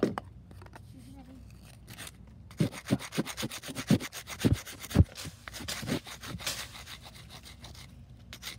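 Outdoors, wooden sticks rub against each other in a run of quick, rhythmic rasping strokes that start after a quiet opening. Faint voices can be heard in the background.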